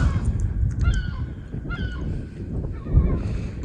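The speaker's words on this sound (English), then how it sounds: "Just disturbed a seagull" A gull squawks nearby in a few short, harsh cries over a low outdoor rumble at small mountain lakes.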